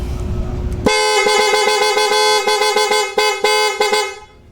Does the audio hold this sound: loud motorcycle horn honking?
yes